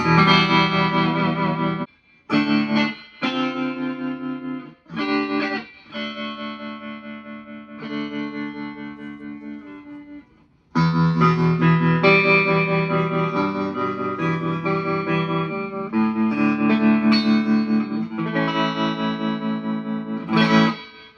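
A 1964 Gibson Scout GA-17 Crest Line guitar amplifier plays electric guitar chords and notes with tremolo. Phrases ring out, separated by short pauses, then give way to longer sustained, pulsing passages, loud and close, with no talking.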